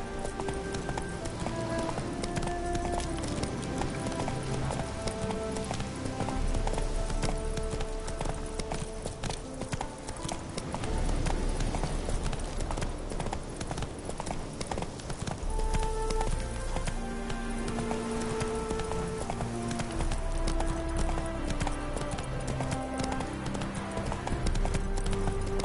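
Steady galloping hoofbeats from Roach, the horse in The Witcher 3: Wild Hunt – Hearts of Stone, run without pause through the whole stretch. Game music plays beneath them, and a faint whinny slips in now and then.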